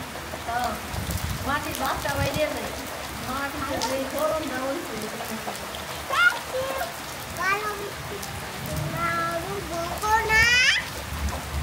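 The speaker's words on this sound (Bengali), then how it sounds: "অনেক সুন্দর বৃষ্টি হইতেছে" Rain falls in a soft, steady patter in the background while several people, including a child, talk over it throughout.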